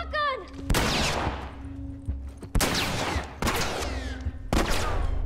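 Gunfire in The Last of Us video game: several loud, sharp shots, each with a broad burst and a decaying tail, spaced about a second apart over a low background hum.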